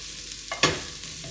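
Mushrooms dropped into melted butter in a hot skillet, a soft clatter followed by a brief rising sizzle over a quiet steady hiss of frying, close and fairly faint.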